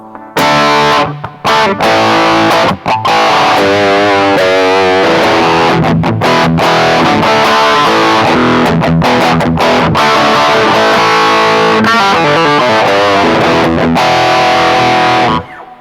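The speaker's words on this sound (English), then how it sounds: "Let's add a little bit more distortion." An electric guitar played through an EHX Metal Muff Pocket distortion pedal, thick, heavily saturated riffs and sustained chords, loud and close with brief gaps between phrases.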